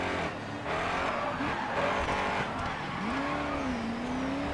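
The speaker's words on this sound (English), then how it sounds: "Oh man, listen to the rumble of the engine." Race car engine in the Grid racing game rumbling steadily, with a rising engine note and tire squeal as the car drifts around a corner during a lap, loud and continuous.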